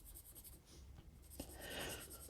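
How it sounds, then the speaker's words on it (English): A quite dark graphite pencil moves across paper in close, soft scratching strokes, a short gap then a fuller, denser stroke, heard alone without speech. "And this is a quite dark pencil."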